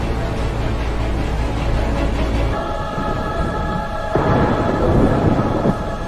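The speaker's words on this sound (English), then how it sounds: "There's a storm and we need..." Thunderstorm rumble in an action movie scene, a deep continuous roar that swells louder midway, with layered rain-like hiss and no voices.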